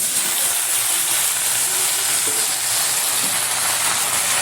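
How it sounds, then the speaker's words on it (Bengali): Washed jute leaves drop into a hot frying pan alongside jackfruit seeds, setting off a loud, steady hissing sizzle that holds unbroken throughout with faint clatter beneath. "দিয়ে দিচ্ছি ধুয়ে রাখা পাট শাক"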